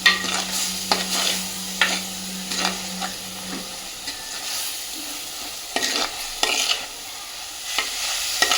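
Ginger garlic paste sautéing in hot oil for a Tamil fish curry, a close crackling sizzle with intermittent spoon scrapes and stirring, no talk.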